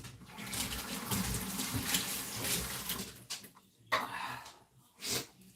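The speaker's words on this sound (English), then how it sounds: "let's wash my hands a minute." Hands being washed under a running kitchen tap, a quiet rush and splash of water that starts and stops in short bursts, fairly faint and close by, with no speech.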